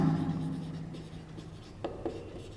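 A maths equation is being written by hand, heard as faint, brief marker or pen strokes over a steady background hum. Two small taps stand out near the end, and no voices are heard.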